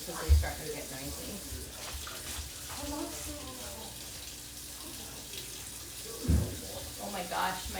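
Hot water running steadily from a kitchen tap on a cold winter day, a continuous soft hiss with a couple of brief knocks and faint children's voices in the background.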